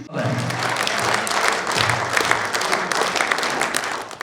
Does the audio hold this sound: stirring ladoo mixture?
no